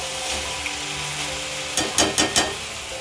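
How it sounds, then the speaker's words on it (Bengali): Kalai being stirred into hot oil in a pan gives a steady close sizzle, then several quick scraping strokes of a spatula toward the end, with no talking. "এখানে আমি কলাইটা মিক্স করছি"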